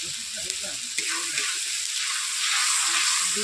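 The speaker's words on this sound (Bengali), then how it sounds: "ওর মধ্যে অল্প করে আমি হালকা করে জল দিয়ে দিচ্ছি" Soybean curry gravy sizzles and hisses in a hot pan after a splash of water goes in, a bright continuous fry with faint stirring clinks, swelling slightly louder near the end, no talking.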